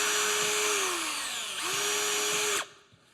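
A power drill whines as it bores screw holes into a wooden rebate plane body held in a vise, its pitch sagging and recovering under load before it stops abruptly. The drilling is close and loud, with no talking.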